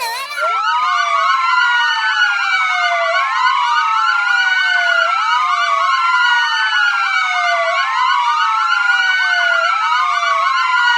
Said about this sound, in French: Vous entendez sirène de police, non?